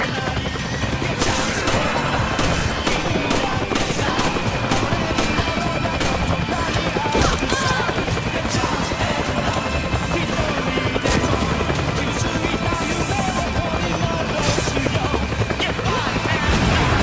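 Dense, continuous gunfire and explosions from Resident Evil 5 roar nonstop, loud and crowded, with faint voices buried beneath the chaos.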